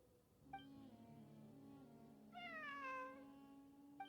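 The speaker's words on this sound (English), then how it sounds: "I'm not hearing things. It really is a cat." Cat meowing in Genshin Impact: a short chirp-like meow near the start, then a longer, drawn-out meow that bends downward in pitch, over a steady low musical drone, with a faint click at the end.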